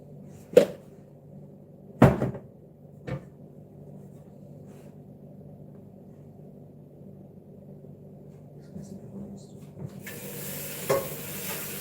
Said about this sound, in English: today I'm going to be frying things